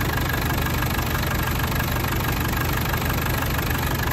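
Diesel engine of a 1990 Land Rover Defender 110 200Tdi idling steadily, a constant close clattering rumble with a fast knocking rhythm and no voices.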